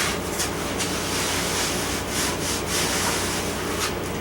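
Light rubbing over the parts of an Eldon slot car charger set gives a steady, close, dry scrubbing hiss with faint strokes, continuous and alone.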